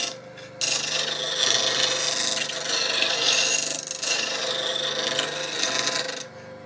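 A woodturning gouge is pressed against a bench grinder, producing a steady, bright rasping grind that swells and eases slightly as the tool is rotated, running almost the whole time with no talking.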